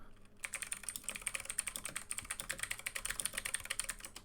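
Fast typing on a computer keyboard, a dense run of close, crisp clicks that starts after a brief quiet moment and continues steadily, with no talking over it.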